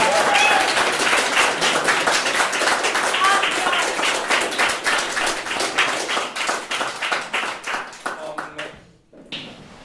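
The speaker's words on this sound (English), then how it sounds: "And you can give us a round of applause." Audience at a university talk gives a sustained round of applause, dense clapping throughout that thins into scattered claps and fades near the end, with some voices mixed in.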